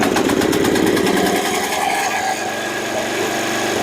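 A John Deere JD68 riding mower's small engine fires up and settles into a loud, steady, buzzing idle right next to the listener.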